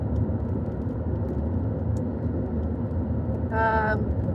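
Steady low road rumble inside a moving car, continuous and even throughout, with a brief higher tone near the end.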